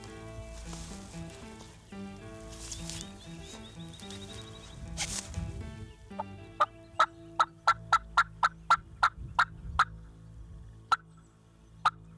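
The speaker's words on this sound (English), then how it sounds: "there's 4 or 5 longbeards in there" Wild turkey longbeards gobble among a flock with hens, heard as a distant burst of gobbling, followed by a sharp, evenly spaced run of loud clicks or snaps.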